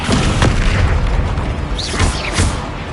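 A Descendo spell impact from Hogwarts Legacy lands as loud, heavy booms with whooshing sweeps amid a thick rumbling combat din, with no pause.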